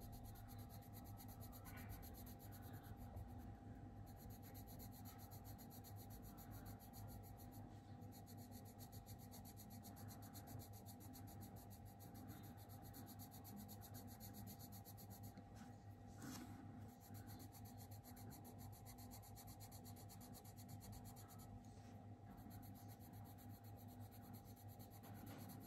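Colored pencils being pressed and rubbed across a sheet of paper in steady strokes, a soft continuous scratching that runs the whole time beneath a constant low background hum.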